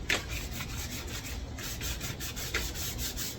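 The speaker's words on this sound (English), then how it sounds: "we're gonna go ahead and start" Plastic automotive trim pieces, originally rubbery, being sanded down by hand in a bodywork shop, a steady rasping rub with repeated strokes close to the mic and no talking.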